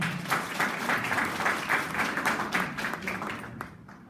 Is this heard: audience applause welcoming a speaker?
yes